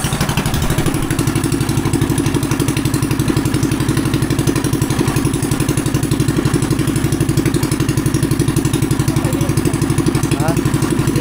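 New motorcycle engine idling with a steady rapid clatter, close and loud throughout, with people talking over it now and then.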